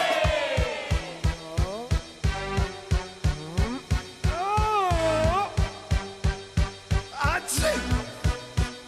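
A studio audience on an Egyptian TV game show claps in a fast, steady, even rhythm, with sung or shouted voices and musical tones over the beat.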